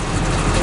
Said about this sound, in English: The bagger is run by PTO.